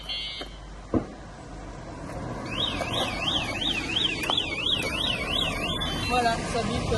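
Rockbros electric scooter alarm sounding a rapid warbling electronic siren that sweeps up and down steadily for several seconds, loud and close over faint background noise, after a sharp knock.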